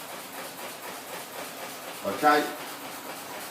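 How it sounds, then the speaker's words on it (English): Beef sizzles in a pan as a steady, soft hiss, with someone talking briefly over the cooking noise. "you can hear the beef sizzling"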